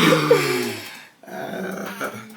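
A dog growls and whines in low, rumbling bursts close by, with a short gap partway through before a softer growl resumes.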